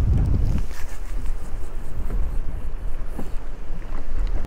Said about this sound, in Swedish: När vinden är så här pass kraftig